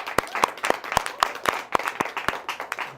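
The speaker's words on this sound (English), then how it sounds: "I would like everybody to give her a big round of applause" A small live-show audience claps in a sparse, uneven round, individual sharp claps standing out at a moderate distance, fairly quiet overall.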